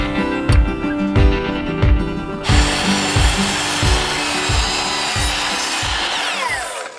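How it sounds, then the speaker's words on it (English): A handsaw cuts wooden baseboard trim in steady, regular strokes, about a dozen rasping pulls and pushes, close and loud, with no talking. "Cutting the last piece of trim for the baseboards."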